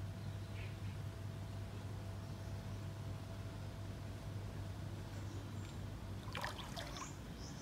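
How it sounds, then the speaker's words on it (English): Steady water trickles softly into a villa's private pool under a constant low hum, with a faint chirp near the end, at a resort in Sanya, China. "You can hear the water."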